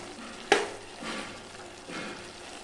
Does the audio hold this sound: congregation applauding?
no